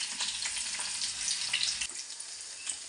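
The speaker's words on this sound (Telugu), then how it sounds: "రెండు ఆయిల్ పోసినా అల్లు ఉల్లిపాయలు వేసినా" Ginger and onions sizzling in hot oil for a home-cooked chicken curry, a steady close hiss of frying that runs throughout with a few faint clinks, no voices.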